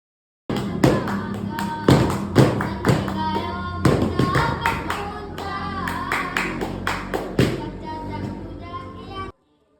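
A group claps in a tight, rhythmic pattern with sharp, loud strikes while voices sing or chant poetry along, in a traditional Gayo Didong performance in Central Aceh.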